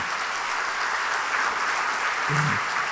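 A church congregation applauding their pastor during a Sunday evening service, a steady wash of clapping throughout with a brief low tone near the end.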